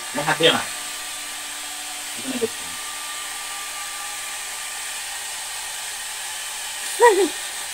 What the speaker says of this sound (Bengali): এটা হেয়ার ড্রায়ারটা ওর জন্যই আনা